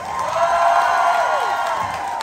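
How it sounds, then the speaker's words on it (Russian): A large concert audience applauds and cheers steadily, a dense wash of clapping and whoops with a sustained tone sliding beneath it. "аплодисменты"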